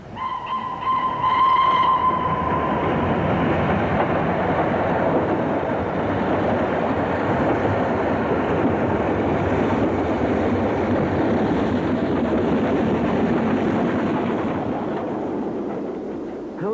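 A steam locomotive train runs loudly and continuously, a dense mechanical roar with a brief tonal whistle-like sound at the start.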